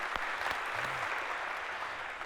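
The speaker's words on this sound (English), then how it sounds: "maybe a round of applause for having choreographed that so perfectly" Applause from an audience for a preceptor in a lecture hall, a soft, steady wash of clapping at low volume, with a brief faint tonal sweep in the middle.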